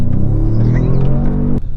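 A Nissan Y62 fitted with a Legendex 3.5-inch exhaust revs with a deep, steady rumble that holds loud and close before cutting off sharply near the end.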